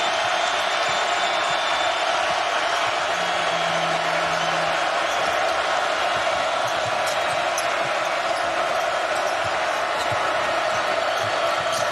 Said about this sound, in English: And the crowd getting back in this game.